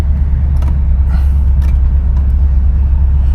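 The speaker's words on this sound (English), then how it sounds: "Compressor kicked on. I can hear it." A steady low engine rumble fills the interior of a 1969 Oldsmobile 98, with a faint mechanical hum joining in as the AC compressor engages, no voices present.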